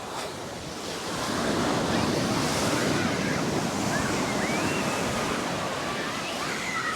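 Waves breaking and washing on a Sydney beach with strong wind buffeting, a dense continuous roar of surf that swells after a moment and holds steady, close and loud.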